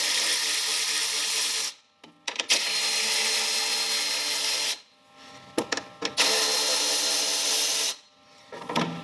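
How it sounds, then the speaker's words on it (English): A power tool removing bolts on a Toyota Hilux, three loud whirring bursts of about two to three seconds each, separated by short pauses with metallic clinks and handling noise. "We're now going to go ahead and remove these bolts."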